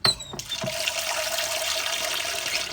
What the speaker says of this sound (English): just doing a couple of exchanges of water